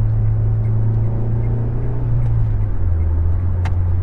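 A 2002 Renault Twingo with a 1.2 l 75 hp engine accelerating, heard from inside as a steady loud engine drone with a rising low hum and road rumble, no talk.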